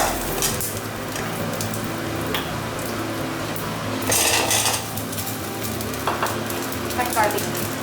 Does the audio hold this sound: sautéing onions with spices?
yes